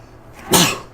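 A single short, sharp sneeze bursts out over a quiet background, loud and close.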